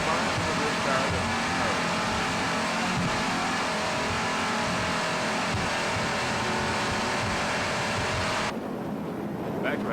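An offshore racing powerboat's 2,500-horsepower engine roars at a sustained, loud, high-revving pitch during a 1999 West Palm Beach APBA race, with a commentator talking over it before the sound drops away near the end.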